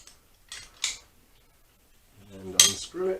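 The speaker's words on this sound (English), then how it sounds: "So literally put the riv nut through the hole, hold it in place, and then we squeeze." A riv nut tool squeezes a riv nut into a bracket hole on a Honda CBR400 track bike: two sharp metallic clicks up close in a quiet space, then a short squeaky straining sound near the end.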